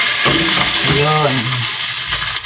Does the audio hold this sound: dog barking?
no